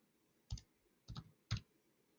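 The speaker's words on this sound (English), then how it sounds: "I click on this particular node, click the plus button" Three quiet, sharp computer mouse clicks sound close by, the last two coming closer together, over near silence with no talking.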